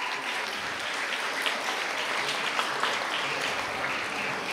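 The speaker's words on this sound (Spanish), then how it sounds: "Fuertes aplausos, por favor." Sustained applause fills an awards ceremony honouring schools, a dense, even wash of clapping from a large audience that runs steadily throughout without pause.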